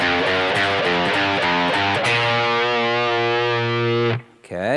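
Distorted electric guitar plays a riff, with chugging repeated notes giving way to a long sustained chord before a brief cutoff and a short pick scrape at the end.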